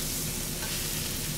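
Butter sizzles and spatters in a hot pan as a steak is basted, a dense, even hiss that stays loud and steady throughout the brief moment, with no voices.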